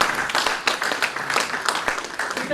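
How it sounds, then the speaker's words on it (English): An audience at an aviation careers conference breaks into dense, sustained applause, a loud continuous patter of many hands clapping. "Please give her a round of applause."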